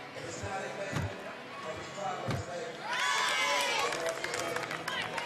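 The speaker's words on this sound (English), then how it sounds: "Hear her teammates cheering her on the sidelines." Teammates cheer from the sidelines at a women's college gymnastics quad meet. Two heavy landing thuds come first, then a burst of loud, high-pitched shouting and cheering from a nearby group, over general arena crowd noise.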